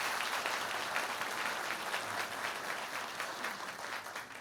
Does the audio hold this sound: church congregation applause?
yes